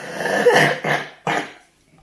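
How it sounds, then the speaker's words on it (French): A sick girl coughs three times in quick succession, close and fairly loud, each cough harsh and raspy, followed by quiet. "elle tousse toujours autant"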